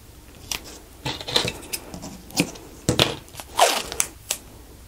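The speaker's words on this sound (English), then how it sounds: "what I'm gonna do is go over this with tape in strips" Blue masking tape being pulled and pressed down in overlapping strips, a series of separate crinkly rips and sticky crackles spaced irregularly over a quiet background.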